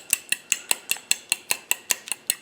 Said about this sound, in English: these are 3 eggs. We're gonna give it a little beating to